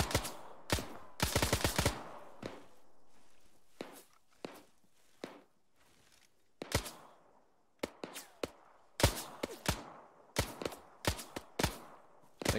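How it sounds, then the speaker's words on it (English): Sharp gunshots and short bursts of fire in the ShackTac military game, scattered in irregular clusters with quiet gaps between, some close and loud, others fainter and more distant. "Someone shooting from that red building north northeast."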